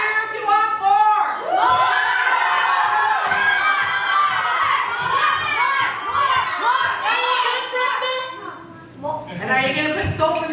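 A group of children at a vacation Bible school cheers and shouts loudly together for several seconds, a dense crowd of high excited voices, tapering briefly before rising again.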